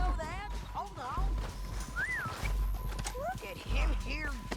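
Horses in the video game Red Dead Redemption 2 clip-clop along and give whinnying neighs among game effects, with someone talking over them throughout.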